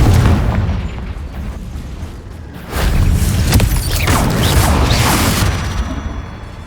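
A Confringo fire-blast spell cast in the video game Hogwarts Legacy, producing a loud, heavy boom that swells into a rumbling, crashing roar partway through and then slowly tails off.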